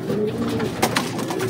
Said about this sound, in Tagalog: So, yun. Yung ating mga ibon dito.